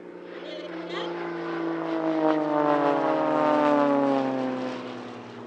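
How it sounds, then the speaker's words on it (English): A single-seat Extra 330 SC aerobatic plane passes at an airshow, its propeller engine droning with a steady rising and falling pitch as it swells to a peak and fades, while a commentator talks over it. "The single-seat Extra 330 SC that we see here is the most advanced and successful aerobatic aircraft currently on the market"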